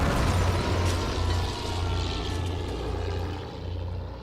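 German bomber airplanes over Paris during a World War I air raid: a steady, low droning engine rumble mixed with broadband noise, continuous and fairly loud, with no voices.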